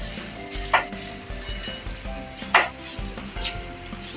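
Bitter gourd sabzi sizzles gently in a pan over medium heat, a soft continuous fry punctuated by a few scraping stirs and light clinks of the spatula.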